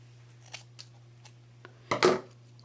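Scissors cut a straight line through cardstock for a handmade card, heard as a few soft snips followed by one louder, crisp slicing cut, close and quiet under a faint steady hum.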